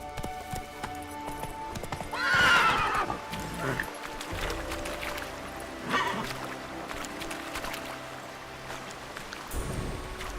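Roach, a horse in The Witcher 3: Wine, trots with steady clip-clop hoofbeats and gives a loud whinny early on, then a softer snort, with game ambience beneath and a voice speaking.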